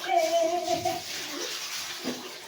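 Water running and splashing while a dog is bathed at home, a close, steady wash with a brief whining tone at the start and softer sloshing afterward.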